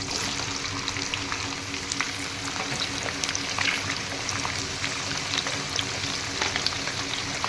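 Duck meat sizzling in a hot pan for duck curry, a steady dense crackle of frying with scattered sharp pops, continuous and fairly close, with no voices.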